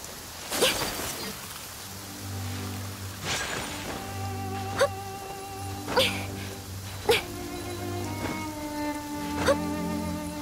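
Rain falling steadily in the Genshin Impact video game, a soft continuous patter under game music with sharp intermittent clicks, no talking.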